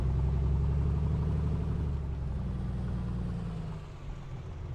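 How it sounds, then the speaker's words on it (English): Piston engine of a Piper Comanche in a flight simulator game, a deep steady droning hum that eases slightly lower toward the end, heard alone. "it's probably the best engine noise that I've heard. Piston engine noise that I've heard"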